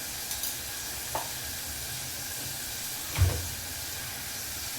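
Onion and tomato sizzle in a pan for a tomato rice dish, a steady low frying hiss with a couple of soft scrapes from stirring, moderately quiet and with no voices.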